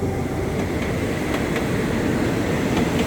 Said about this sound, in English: this is the more local train